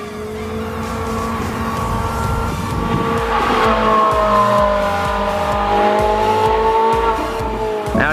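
A Ferrari 458 Italia runs on a race track, its engine droning loud and steady with shifting tones as it works through turns, joined by tire squeal and other car noise throughout.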